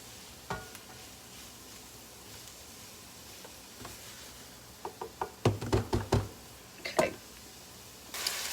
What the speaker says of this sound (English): And I just want to get these sauteed.